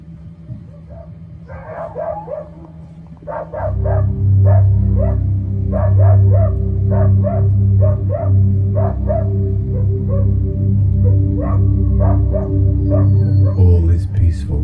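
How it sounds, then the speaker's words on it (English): Farm dogs on Berkeley Common near Ulverston in the South Lakes bark repeatedly in a steady rhythm, moderately distant, over a loud low engine-like rumble that starts partway through and continues underneath. "the incessant barking of the local farm dogs"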